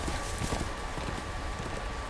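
A horse in the Game of Thrones video game gallops away with rapid, steady clip-clop hoofbeats over a dense, loud background of game noise, with no talk.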